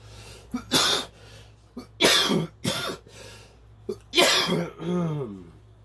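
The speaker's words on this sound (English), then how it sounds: "I'm still trying to get over this cough." Several harsh, bursting coughs in a row, close and loud, separated by short pauses, ending with a strained, voiced wheeze.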